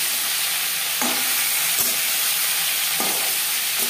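Katla fish fries in a pan with a steady, close crackling sizzle, and a few soft stirring or turning scrapes are heard along the way.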